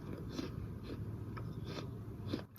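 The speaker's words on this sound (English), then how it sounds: "I'm going to be eating my apples and cinnamon" Close, soft crunching bites and chewing of apples with cinnamon repeat every half second or so, over a low background hum.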